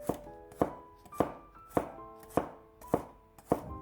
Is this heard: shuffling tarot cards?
no